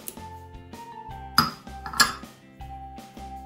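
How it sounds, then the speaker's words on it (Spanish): Three whole eggs and three yolks go into a bowl for a traditional egg flan, with a few sharp clinks and knocks of shell and bowl against a soft tonal backdrop, no voices. "en el siguiente paso vamos a mezclar los 3 huevos enteros, las 3 yemas"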